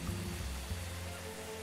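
A rainstorm in the airport management game Airport CEO: steady, dense rain hiss with a low rumble underneath, even and unbroken for the whole short stretch.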